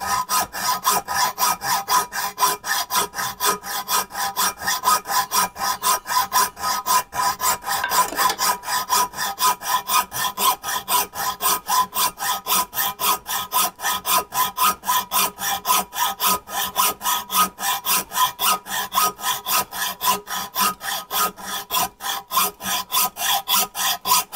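Hand saw cutting through seized, badly corroded bolts on a carburettor, a steady fast back-and-forth rasping stroke that is loud, close and continuous throughout, with no talking.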